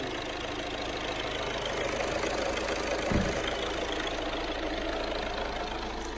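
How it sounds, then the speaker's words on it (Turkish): Audi car engine idling steadily with an even mid-low drone throughout, a brief thump near the middle, and no talk. "Abdullah Usta marşa bak"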